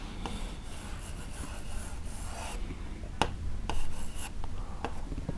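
Scratchy, rubbing strokes of handwriting the Urdu word baithna during a lesson, a steady rasp broken by a few sharper taps as the pen lifts and lands.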